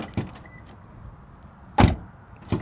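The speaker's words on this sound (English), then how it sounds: "Door open and close sound from the outside." A 2021 Lexus RC 350 F Sport door, heard from outside the car, gives a soft click as it opens, then a solid, close thump as it shuts, followed by a smaller latch knock.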